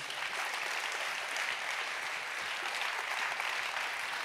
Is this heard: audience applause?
yes